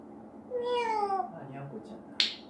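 A gray parrot imitates a cat's meow with a drawn-out, falling two-part call, quiet and close, followed by a short sharp squawk.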